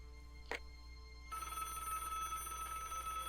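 Telephone ringing in the Broken Sword video game: a short electronic bell trill, then a sustained steady ring tone that continues, fairly clear over a low ambient hum.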